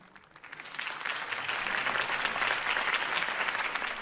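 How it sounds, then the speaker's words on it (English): Crowd applause in a Batman Telltale series video game scene, erupting after a campaign speech: dense, sustained clapping that swells within the first half second and holds steady and loud throughout. "could have heard that applause"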